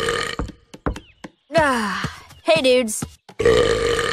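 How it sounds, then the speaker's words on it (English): A female cartoon character lets out a long, loud burp in a celebratory moment, with voiced speech before and after it. "That was my celebration burp."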